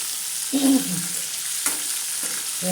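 A spoon stirs usal sizzling in a pan with green chillies and coriander, scraping in a few distinct strokes over a steady fry hiss, close and clear, with no talk.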